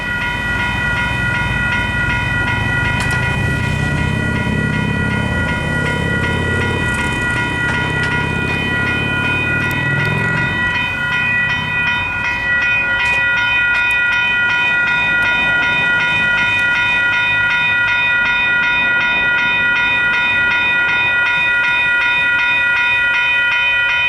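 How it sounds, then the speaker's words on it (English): A train passes a pedestrian level crossing with motorised gates on Naenae Road, loud rumbling wheels and clatter for the first ten seconds, then crossing bells ring steadily and prominently on their own as the train fades. "So now all we've got to do is wait for the train."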